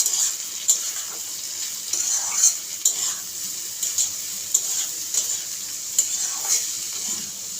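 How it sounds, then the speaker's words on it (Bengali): Onion and green chilli get stirred into frying potatoes in a pan, a steady sizzle broken by repeated rhythmic scrapes and clinks of the spoon against the metal. "এগুলিকেও নেড়ে মিশিয়ে নেব আলুর সাথে"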